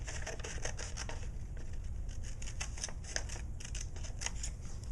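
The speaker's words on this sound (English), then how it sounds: "I'm going to cut my mask out." Scissors cut steadily around the outline of a paper mask, a close, quiet run of snipping and crisp paper rustle with repeated short strokes and no talking.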